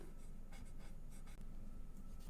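A pencil or marker scratches on paper while a snake drawing is colored in for a kids' craft, quick close strokes in uneven bursts with no voices.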